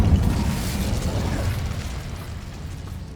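The Incendio fire spell in the Hogwarts Legacy video game blasts with a loud whooshing burst of roaring flame, a dense rumbling rush that slowly fades over a few seconds.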